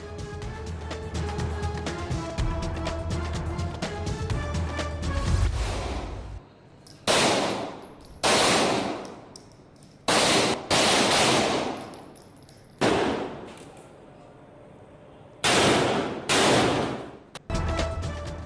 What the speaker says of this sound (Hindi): मुख्तलिफ विंग्स और डिवीजन्स के मजीद 44 एहलकारों की जदीद हथियारों की मदद से फायरिंग मश्क।